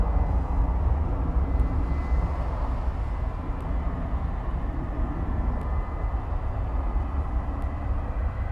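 An American Airlines Airbus A321 taxis at DFW Airport at night, a steady broad jet-engine roar that holds constant throughout, distant and unbroken, with no talk over it.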